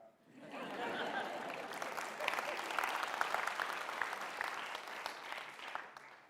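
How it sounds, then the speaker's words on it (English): An audience at a motivational talk applauds, a dense sustained clapping that swells in and holds for several seconds with scattered sharper claps. "You can clap."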